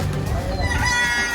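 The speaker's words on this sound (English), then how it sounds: "So many chickens. Look at the chickens. Roosters." A rooster crows among a flock of chickens in Key West, Florida, one loud drawn-out call carried outdoors over steady background noise.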